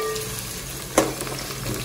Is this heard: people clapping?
no